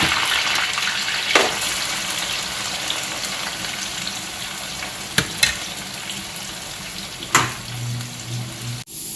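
Chili, potatoes, lemon and tomato frying in a pan give a steady, close sizzle, broken by a few sharp utensil clanks and a low bubbling hum near the end.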